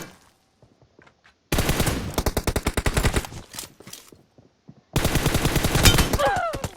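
Rapid automatic gunfire from the mobile game PUBG Mobile rattles out in two loud, sustained bursts of closely spaced shots, split by a short pause, after a quiet opening.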